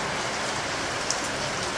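Heavy rain falls in a steady, dense hiss, loud and continuous with no pauses and no voices.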